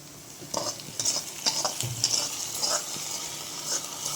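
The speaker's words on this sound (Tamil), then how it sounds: "இதில் சேர்த்தாச்சு சேர்த்து கலக்கிங்க" Fried onion and dried red chillies are stirred into a banana stem and banana flower kootu, with repeated scraping strokes of a utensil against the pan over a soft sizzle.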